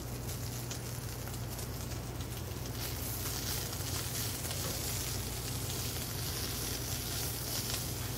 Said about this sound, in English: now we're just going to let it saute on a low heat for about 2, maybe 3 minutes